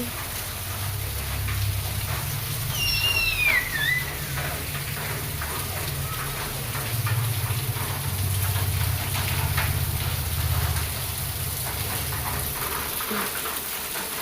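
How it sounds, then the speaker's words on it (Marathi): Steady heavy rain pours during a palanquin procession in Saswad, a dense broadband wash with a low rumbling layer, continuous and fairly loud throughout, with a brief bird-like chirp near the start. "हे बघा पाऊस खूप पाऊस चाललाय"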